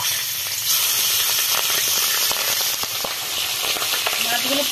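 Tangra river fish fry in hot oil in a wok, giving a steady, close, dense sizzle with faint crackles throughout and no talk.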